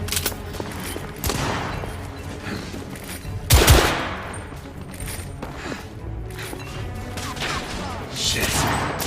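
Gunfire in The Order: 1886 video game, a dense fusillade of overlapping shots with a sharp, loud burst near the middle, set against steady combat din.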